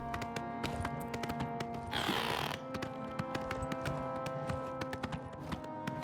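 Steady clip-clop of a horse's hooves while riding in Oblivion Remastered, a regular quick rhythm of close hoofbeats with a brief rushing noise in the middle.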